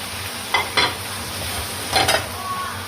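Beef stir-fried in a pan for Taiwanese-style beef noodles, with a steady sizzle under a few scraping stirs of the spatula, close and moderately loud, without talk.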